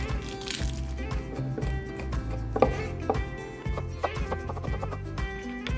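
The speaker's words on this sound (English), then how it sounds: "We have to slice up some onions and also minced" A knife slices onions and minces garlic on a cutting board in quick, steady chopping strokes, heard close and faint.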